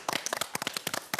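Studio audience applause at a Korean broadcast show about semiconductor history, a brief burst of dense overlapping claps that rise and fall quickly, close and moderately loud, with no talking over it.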